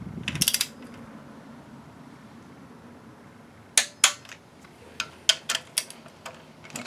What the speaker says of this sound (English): I will go ahead and grab a torque wrench, and I guess we'll go ahead and torque it now.